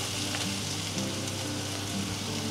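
Garlic and ginger sizzling in hot oil in a pan, a steady, bright frying hiss throughout with faint stirring.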